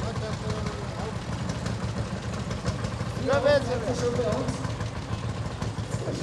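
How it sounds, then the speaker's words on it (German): A low, steady idle from a 1911 Lanz tractor engine chugs underneath nearby voices, with a brief higher tonal rise midway through. "1911 an Lanz, der Traktor."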